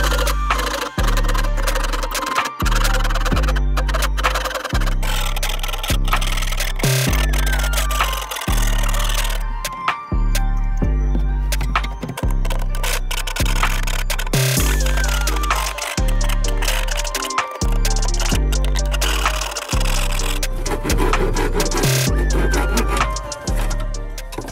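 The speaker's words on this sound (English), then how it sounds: "And I'm just gonna finish cutting out this doorway." A power tool cuts out a wooden doorway in an under-bed RV storage build, sounding as repeated loud, rhythmic buzzing strokes in short bursts across the whole stretch, close and harsh.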